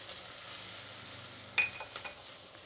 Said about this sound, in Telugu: ఇప్పుడు తెల్లగడ్డ, అలాగే కరివేపాకు. ఇప్పుడు దీన్ని వేయించుకుందాం.